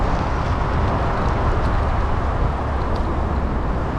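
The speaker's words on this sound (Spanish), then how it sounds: "Vaya ruido, pasa por aquí al lado la autovía," Steady, loud roar of traffic from a motorway running right beside a spot in Porriño, a dense continuous wash of road noise with no breaks.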